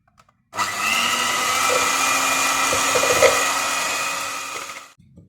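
An electric hand mixer whirs at steady speed while whisking cake batter for marbled cupcakes, switching on abruptly, droning loud and close for about four seconds, then cutting off, with no voices.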